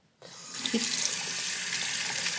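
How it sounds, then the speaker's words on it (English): A homemade fabric makeup pad is rinsed under a running sink tap; the water starts abruptly and then gushes steadily and loudly until the end. "Now let's see if it rinses out pretty well."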